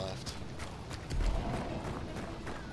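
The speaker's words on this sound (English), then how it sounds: "I just heard a horse going off." Galloping horse hooves in the video game Hunt: Showdown, a quick clip-clop rhythm heard at a distance and fairly faint beneath game ambience, with a swell in the middle.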